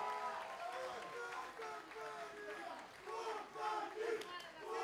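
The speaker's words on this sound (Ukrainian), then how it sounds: "Ваші оплески!" A crowd at a WWFC 21 fight event cheers, shouts and claps in uneven surging waves, with voices rising and falling at moderate distance.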